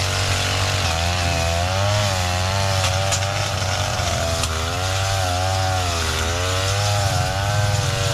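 A gasoline grass cutter runs continuously at close range clearing a path, its two-stroke engine buzzing loudly and wavering in pitch as the throttle rises and falls, with no talk over it.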